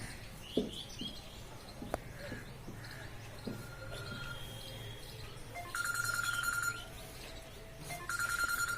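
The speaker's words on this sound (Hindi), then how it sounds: "देखिए फोन आ गया" A mobile phone rings during a maths class in a room, a repeating electronic ring tone in two bursts over faint room noise and a few clicks.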